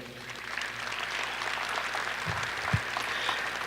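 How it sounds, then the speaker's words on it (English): Applause from a gala dinner audience fills the room steadily, a broad even wash of clapping with a couple of louder thumps near the end. "Please join me in a round of applause to thank them all once again."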